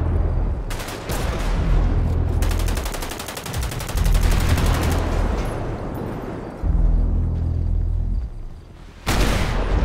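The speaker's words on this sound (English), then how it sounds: "So many units shooting at this thing right now." Heavy, near-continuous gunfire from police units in the GTA 5 roleplay game, with rapid automatic bursts and booming impacts that rumble loudly and keep going with only short gaps.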